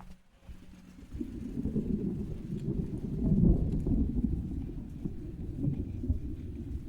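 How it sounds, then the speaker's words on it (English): Steady rain on a vehicle during a delivery gig, a dense, continuous patter and rumble up close that swells midway and keeps going with no voices over it. "So as y'all can see, it is raining"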